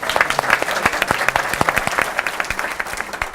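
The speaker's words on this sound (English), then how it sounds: "How about a round of applause for Betty?" Steady applause from a seated audience at a community arts and culture forum, dense clapping filling the room and continuing throughout, with no talk over it.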